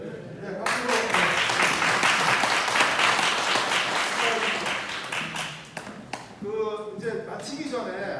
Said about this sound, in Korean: 네, 박수로.